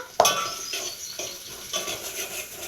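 Cooked rice being mixed in a pot with chili powder, turmeric, oil and salt. A sharp metal clink opens it, followed by a few soft, rhythmic scraping stirs close by, with no talk.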